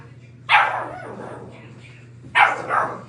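A dog barks twice indoors, two sharp close barks about two seconds apart, each trailing into a softer whine, over a steady low hum.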